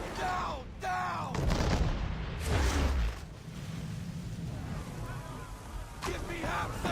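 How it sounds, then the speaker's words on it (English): Ship cannons fire a broadside in Assassin's Creed III, loud deep booms around the two- and three-second marks with bursts of sharp sound, heard over shouted orders and ongoing battle noise. "Make ready, boys! Fire broadside!"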